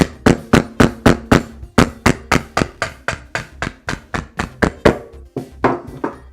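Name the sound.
hammer striking coconut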